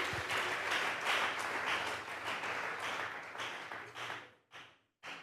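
Church congregation applauding together, a dense wash of many hands clapping that thins and breaks into a few final scattered bursts near the end.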